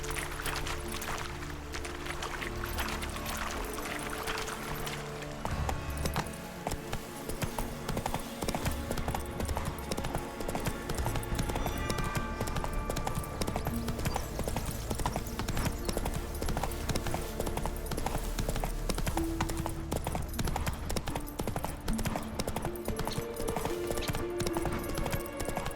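Horse hooves galloping steadily in The Witcher 3, a continuous rhythmic clip-clop close by, layered over game music and ambience throughout.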